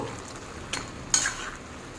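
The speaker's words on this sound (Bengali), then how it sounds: "জল খুব ভালো মতো ফুটে গেছে, একবার নাড়িয়ে দেব।" A spoon stirs a boiling pot of drumstick bitter curry (neem and drumstick stems in water) over a high flame, giving a quiet simmering hiss with two brief scraping stirs near the middle.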